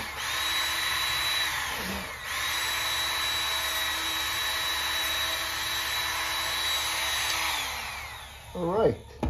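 A Work Sharp knife sharpener motor whirs with a steady high whine, briefly dips and spins back up, then runs on before winding down, close and moderately loud.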